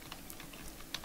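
Typing on a computer keyboard while coding a PHP file-download function, a short burst of soft, close keystrokes with one sharper click near the end, no talking.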